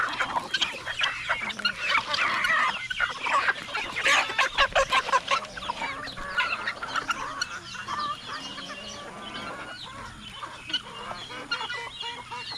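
Young chickens cluck steadily close by at a backyard coop, a dense, continuous chorus of overlapping clucks and calls with brief louder bursts throughout.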